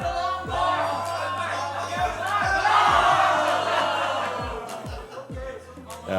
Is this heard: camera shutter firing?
no